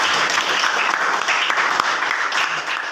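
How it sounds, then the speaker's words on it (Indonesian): Steady, dense clapping from a classroom of students applauding a classmate, continuous for a few seconds before cutting off abruptly. "Kita beri aplaus kepada Nadine"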